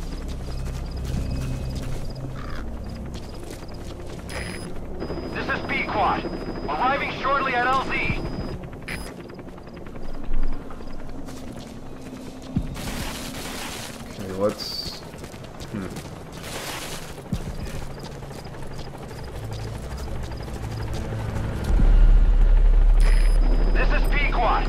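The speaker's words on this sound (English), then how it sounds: "Support helicopter has arrived." A support helicopter's rotor thrum drones steadily throughout as it arrives in the video game Metal Gear Solid V: The Phantom Pain, with game sound effects, hoofbeats and a voice talking over it, growing louder near the end.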